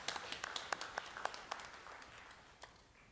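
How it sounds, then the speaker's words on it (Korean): A church congregation at a Wednesday evening service claps in praise, giving a quick run of fairly sparse, distinct claps that thin out and fade within a few seconds. "하나님께 영광의 박수를 드리겠습니다."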